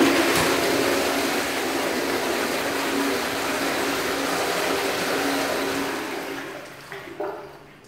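A toilet flushing in a public toilet block at Birkenhead War Memorial Park: a loud, steady rushing whoosh of water that runs for about seven seconds, then tapers off with a couple of small clunks at the end.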